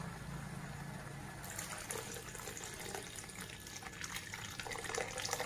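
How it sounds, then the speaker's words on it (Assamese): Water pours steadily into a pot of lentils cooking for a dish of dorun greens, a continuous splashing rush that grows louder and brighter partway through. "পানী দিম"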